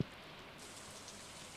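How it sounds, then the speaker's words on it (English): Steady pouring rain in the farming game Stardew Valley, a soft continuous hiss of falling drops at low level with no talk. "And it's pouring rain."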